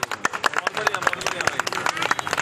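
Audience applause at a trade association gathering honoring a party state president, a burst of scattered hand claps close by, with someone speaking over them.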